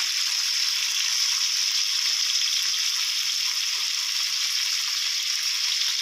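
An egg stir-fried in a hot pan for dry chicken suki gives a close, steady, hissing sizzle that runs evenly throughout without pauses or speech.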